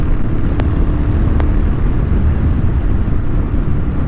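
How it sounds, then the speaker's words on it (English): A 2010 Moto Guzzi V7 Cafe's V-twin engine drones steadily under way, a loud, close, continuous low rumble mixed with wind noise and no voices. "It's not super loud, but just that classic twin sound, that V-twin sound just sounds awesome."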